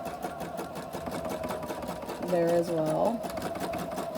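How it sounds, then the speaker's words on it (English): Sewing machine running a zigzag stitch along the edge of a drawstring backpack, a steady fast needle rattle that continues throughout, with someone talking briefly over it. "I'm going to do a zigzag stitch at the very edge to keep everything kind of"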